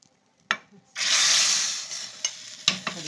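Chana dal payasa is mixed in a pan: a sharp utensil knock, then a surging hiss of liquid, followed by scattered scraping and tapping strokes against the pan.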